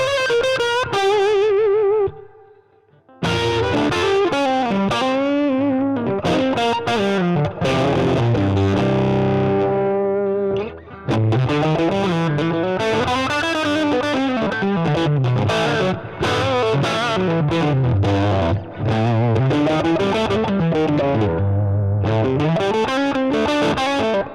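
Bluesy electric guitar through a Fender '68 Custom Vibro Champ amp, with distorted, bending phrases and sustained notes played up close, continuing for over twenty seconds with brief pauses and no talking.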